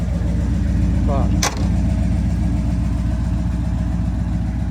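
A 1979 Ford F150 4x4 truck engine idles steadily and close by, a continuous low rumble with a brief dip partway through.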